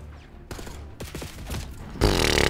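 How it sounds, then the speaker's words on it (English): Gunfire in Black Ops 6, a rapid burst of close shots followed by a loud sustained blast, with scraping movement between them. "Getting shot at from everywhere."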